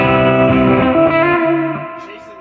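A Telecaster played through a 1968 Fender Bandmaster Reverb amp with the reverb at full: a sustained chord rings out loud and splashy, then slowly decays over a couple of seconds.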